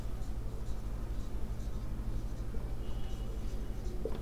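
A pen scratches steadily on paper while a class 10 math solution is written out, a continuous faint scraping with small rhythmic strokes over a low background hum.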